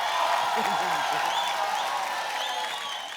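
A studio audience at a comedy talk show applauds loudly to welcome film director Rakeysh Omprakash Mehra, a dense, steady wash of clapping with scattered cheers and whoops that eases off slightly toward the end.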